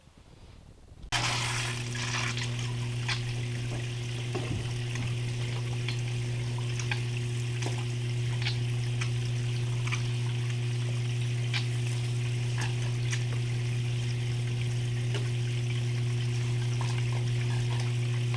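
Water runs steadily onto a bag of gold-prospecting dirt, a continuous hissing, sizzling gush that starts abruptly and holds alongside a steady low pump hum, with no talk.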